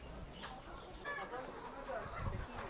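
Chickens at a market in Kharkiv, Ukraine cluck and squawk close by in short, irregular calls, with a voice speaking over them.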